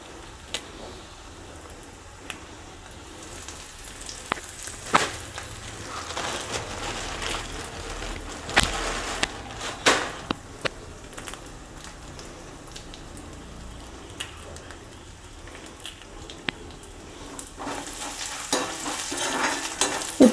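Curry leaves and urad dal frying in a hot pan, a crackling sizzle throughout with frequent sharp spatula scrapes and stirring knocks, close and fairly loud, without voices.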